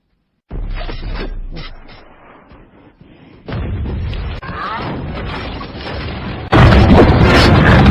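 Explosions and artillery-like blasts from the military attack scene in the 2003 film Hulk, loud rumbling booms in successive waves that grow heavier and more intense toward the end.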